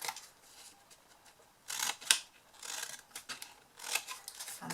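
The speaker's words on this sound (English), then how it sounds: "Cut those wedges out of the corners." Scissors snipping wedges out of the corners of a cardboard box panel, a few quiet crisp cuts and rustles spaced apart, close and alone.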